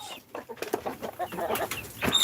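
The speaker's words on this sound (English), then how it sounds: "Cock-a-doodle-doo." Close by, a rooster gives a run of short, choppy clucking calls that build slightly louder toward the end.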